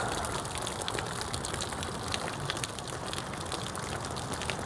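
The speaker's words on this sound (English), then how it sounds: "And it's raining good." Steady rain pours down heavily outdoors during a winter storm that overwhelms house gutters amid county flood warnings, a dense continuous hiss of drops at close range with no voices.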